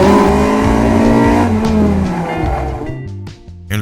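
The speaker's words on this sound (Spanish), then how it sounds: "Era un Honda CRX, cuya voz además es muy particular." A Honda CR-X engine revving hard, loud and close, with rising and falling rasping tones through quick gear changes before the revs drop away near the end.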